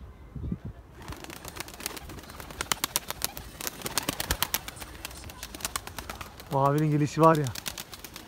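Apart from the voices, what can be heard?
perçemli sabuni pigeon taking off and flying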